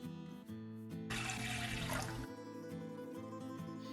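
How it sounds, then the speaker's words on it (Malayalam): Water poured into a pan for softening rice flour, heard as a short splashing burst of about a second over quiet, tonal background music. "അതിനായിട്ടൊരു പാനിലേക്ക് നമ്മൾ എടുത്തു വച്ചിരിക്കുന്ന വെള്ളം ഒഴിച്ചു കൊടുക്കാം."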